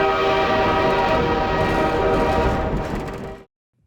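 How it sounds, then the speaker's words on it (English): A tram rolls along its track in Half-Life 2, a loud, steady rail rumble with a sustained horn-like tone and clicking over the rails, which fades out and stops near the end. "Gordon Freeman is once again on a tram"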